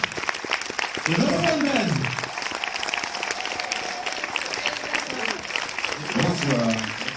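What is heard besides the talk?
audience applause for the film crew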